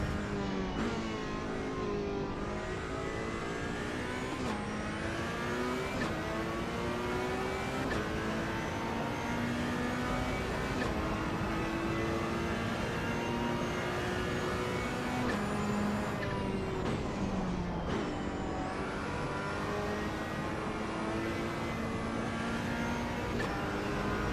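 A car in the AC Evo racing game held at speed in seventh gear, its engine a loud, constant high drone with small pitch dips and rises as the revs shift, close and unbroken with no talk.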